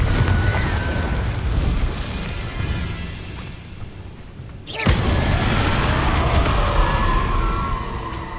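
A Confringo spell blast in Hogwarts Legacy bursts as one sudden loud boom, then a wide, roaring rumble lingers after it. Before the blast there is a steady, noisy ambient wash.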